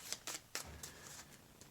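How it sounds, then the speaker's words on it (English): A deck of cards being shuffled during a tabletop card game, heard as a few quiet, brief riffling bursts spaced apart, faint and close with no talking. "Give that a shuffle."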